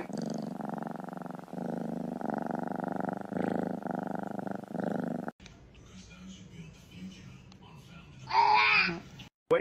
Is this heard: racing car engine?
no